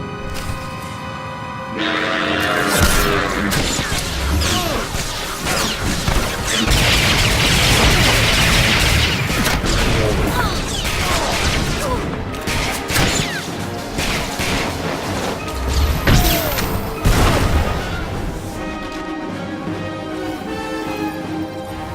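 Weapons open fire during a Star Wars: The Old Republic Mercenary story battle, a dense run of loud crashing blasts, booms and whooshing shots over game music, continuous and heavy for most of the stretch.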